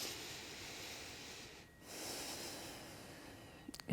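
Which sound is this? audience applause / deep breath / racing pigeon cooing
deep breath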